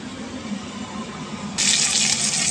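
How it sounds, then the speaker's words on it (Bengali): Hot water runs from a tap to rinse spice out of a mixer grinder cup, starting with a sudden close splashing gush after a stretch of quiet kitchen background. "কাপের মধ্যে যে মশলাটা লেগে আছে এটা ধুয়ে ওর সাথে একদম দিয়ে দেবো"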